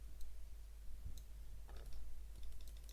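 Sparse mouse or keyboard clicks picked up over a voice call, a handful of faint, irregular ticks against a steady low hum.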